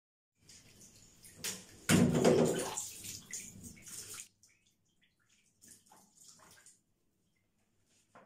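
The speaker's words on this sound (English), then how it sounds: "and then I'll rinse." Tap water runs in a bathroom sink while an old wig is rinsed, a splashing gush that swells loud for a few seconds and then gives way to a few faint drips and trickles.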